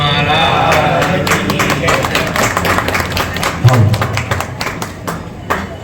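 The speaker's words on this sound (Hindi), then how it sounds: "एक बार जोरदार तालियों" An audience at a satsang in a cow-protection ashram claps loudly and briskly for several seconds, with dense overlapping claps and some thumps, while voices murmur faintly underneath.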